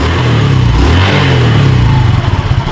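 A motorcycle fitted with a new Split Fire ignition coil revs loudly up close, its engine note rising and falling in quick throttle blips with a rapid pulsing rhythm toward the end.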